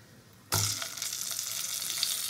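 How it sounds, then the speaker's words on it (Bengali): Parboiled cauliflower florets drop into hot oil seasoned with turmeric and salt, setting off a sudden loud sizzle that keeps crackling steadily close by. "প্রথমে আমি ফুলকপিগুলোই দেবো।"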